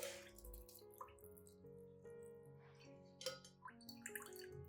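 Plant nutrient solution mixed with cinnamon water dripping as it is filtered, faint irregular drips and small liquid splashes, quiet and close, alone without talk.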